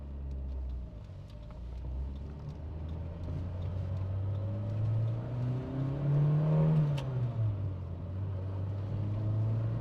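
A 1981 European-market VW Golf GTI with a close-ratio five-speed gearbox, its smooth engine droning steadily while driving, pitch rising briefly in the middle then settling, heard from inside the cabin with no talking.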